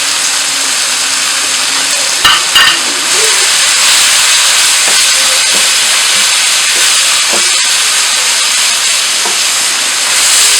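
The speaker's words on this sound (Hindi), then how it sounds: "अब मैं इसको अच्छे से भूनूंगी ताकि इसका जो कीमा जो है इसकी स्मेल ख़त्म हो जाए" Minced meat frying in a pan with tomatoes, turmeric, crushed red chilli and coriander powder, giving a loud steady hiss and sizzle throughout, with a couple of brief clatters early on and no talking.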